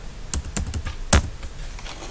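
Keys tapped on a computer keyboard while entering a purchase voucher in Tally accounting software, a few quick clicks followed by one firmer keystroke, close and clear.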